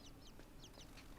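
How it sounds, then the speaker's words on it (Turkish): Small birds in the dark side-scrolling puzzle game Inside chirp in a quick run of high, faint twittering calls over a steady low background drone, with no voices. "Aa kuşmuş onlar civciv değil."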